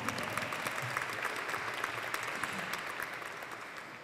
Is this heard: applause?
yes